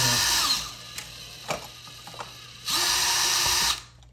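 A cordless power drill backs screws out of a Schlage keypad deadbolt keyless entry lock, with two sustained whirring bursts at the start and end and a few light clicks and taps between them, loud and close.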